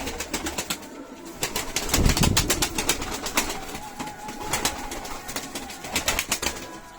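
Pigeons flap and clatter their wings in quick bursts, with soft cooing and outdoor background noise, no talking.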